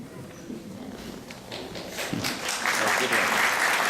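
A lecture audience breaks into applause, a dense patter of clapping that starts moderate and swells louder toward the end, with scattered voices mixed in.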